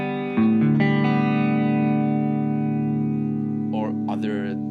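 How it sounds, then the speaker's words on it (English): An electric guitar played through a Blackstar Beam Mini practice amp with chorus effect rings out as one sustained, shimmering chord that slowly decays, followed by a few spoken words near the end. "You can add chorus."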